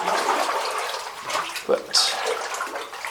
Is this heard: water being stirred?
yes